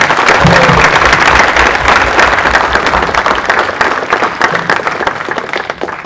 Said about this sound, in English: Can I request all of you to applaud them?